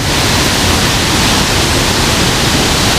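A waterfall above a pool with murky greenish water gives a dense, unbroken roar of rushing water, loud and close, with no voices.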